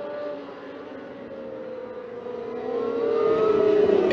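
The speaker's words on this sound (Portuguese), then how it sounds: "Todo mundo acelerando." Super Esporte category racing motorcycles at an SBK round accelerate together, a sustained engine whine that steadily rises in pitch and grows louder as the bikes build speed.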